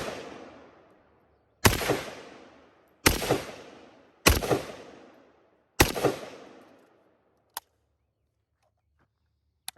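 Four loud rifle shots of 7.62x39 rounds hit a ceramic Level IV armor plate at irregular intervals, each with a sharp crack and a ringing outdoor echo, followed by two faint clicks, with no talk.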